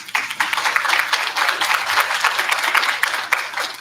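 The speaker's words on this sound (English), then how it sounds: "Give them a round of applause." Audience applause at a commencement ceremony in Kansas City, steady and fairly loud clapping from a crowd that holds evenly throughout.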